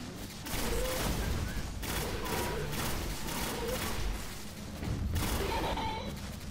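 Rapid gunfire from the Bad Juju weapon in Destiny: The Taken King, loud repeated bursts running almost continuously with short gaps, mixed with game explosions and effects.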